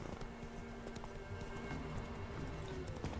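Roach, Geralt's horse in The Witcher 3, gallops with a steady, brisk clip-clop of hooves, close and continuous, over a busy background of game ambience.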